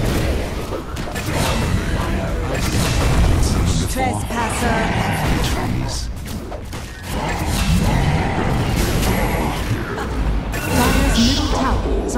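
A tower crumbling in a Dota 2 match, crashing and rumbling amid a busy, loud mix of battle effects and spell sounds, with talk running throughout.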